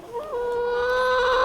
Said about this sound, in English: he is an Alaska Ninja Chicken, which is a breed that the breeder has been working on for about 10 years now.